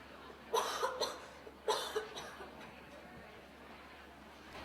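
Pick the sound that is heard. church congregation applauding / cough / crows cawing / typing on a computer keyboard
cough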